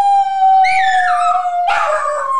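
A dog gives a long, sustained howl that holds steady before breaking into a louder, rougher second wail near the end, close and alone with no talk.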